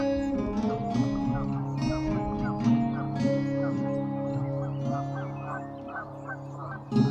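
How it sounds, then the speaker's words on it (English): Canada geese with their goslings honk repeatedly in the Cariboo in spring, a nasal, layered chorus of overlapping calls at moderate distance, fairly soft, with no talk over it. "It's not hard to find Canadian geese in the Cariboo."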